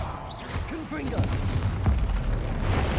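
Confringo blasting-curse explosions in the Hogwarts Legacy video game, a continuous run of booming blasts and crackling impacts with whooshing spell sounds over a dense low rumble of combat, steady and loud throughout.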